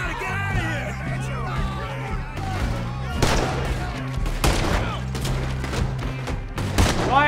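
Gunfire in Red Dead Redemption 2: a scattered volley of sharp shots over a steady, droning game score, with several louder bangs clustered toward the middle and end.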